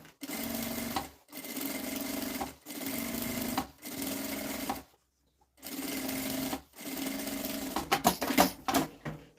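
Sewing machine running quick stitches to hold the fabric lining of a cloth bag, close rapid mechanical chatter in five even bursts separated by short pauses, ending with sharper clicks.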